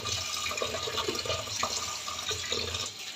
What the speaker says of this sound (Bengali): বেশ কয়েকবার করে ধুয়ে চিপড়িয়ে নিংড়ে জলটা ফেলে দিতে হবে